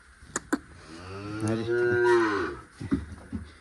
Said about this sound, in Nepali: हाम्रो मम्मीले पाले गाई चाहिँ हो